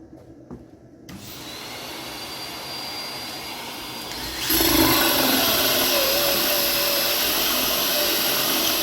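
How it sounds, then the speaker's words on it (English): A vacuum cleaner starts and runs with a loud, steady roar that jumps louder partway through and continues without pause. "You can turn our vacuum on."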